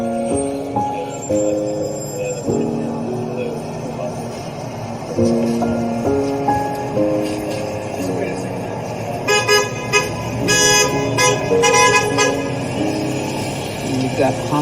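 Car horns honk repeatedly in short toots and longer blasts from passing traffic at a street protest outside Saks Fifth Avenue, heard amid crowd noise and talk, moderately loud and fairly close.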